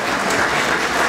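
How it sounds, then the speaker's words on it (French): Audience at a comedy sketch show applauding as a performer named Ludivine walks onstage, a brief, dense wash of clapping from a crowd. "On peut applaudir Ludivine, s'il vous plaît."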